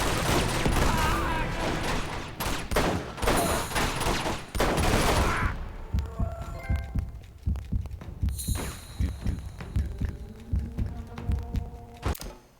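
Gunfire in the video game Uncharted 2: a dense, loud stretch of rapid shots and booming impacts, followed by quieter rhythmic thumps and occasional shots, with a faint voice underneath.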